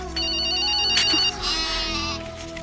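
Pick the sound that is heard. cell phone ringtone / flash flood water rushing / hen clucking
cell phone ringtone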